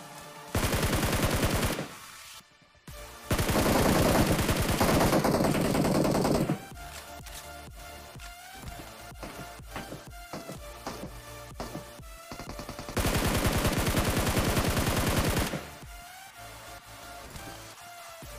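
Gunfire in the mobile battle royale game PUBG Mobile, with loud sustained automatic bursts separated by quieter stretches of game sound and single shots.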